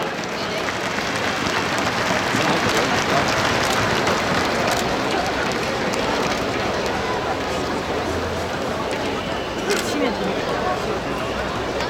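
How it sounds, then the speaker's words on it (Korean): Sustained applause from a large crowd in a baseball stadium at a Kia Tigers game, a dense steady clatter of clapping that holds loud and continuous throughout, with crowd noise mixed in. "다시 한번 큰 박수를 부탁드리겠습니다."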